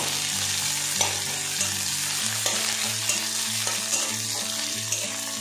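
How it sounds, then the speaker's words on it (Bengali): Onion, garlic and chilli pieces frying in hot oil for a lentil dish, a steady close sizzle with the occasional scrape and stir of a spoon, and no voices. "এই পেঁয়াজ আর রসুনটা কিন্তু খুব বেশি ভাজার দরকার নেই"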